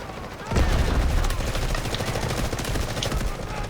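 M4A1 assault rifle fire in the Delta Force video game, a dense rapid burst that starts abruptly and keeps rattling loudly and continuously to the end, with booming low thuds beneath.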